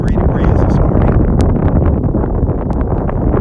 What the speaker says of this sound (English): It's windy out here this morning, pretty breezy.